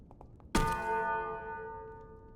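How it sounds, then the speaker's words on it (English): A giant War Bell gauntlet punch lands as a single sharp metallic clang, then rings on as a bell-like tone that slowly fades over about two seconds, faint soft taps just before the hit. "It actually makes a bell ringing sound when you punch things or people with it."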